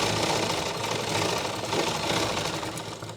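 Sewing machine stitching the fabric of a circular umbrella palazzo, a steady close mechanical whir and rapid needle rattle running continuously without pause.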